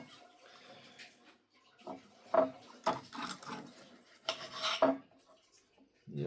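A knife saws through steak on a plate, giving a quiet run of close scrapes and clinks of metal on dish with short pauses between strokes. No voices are heard.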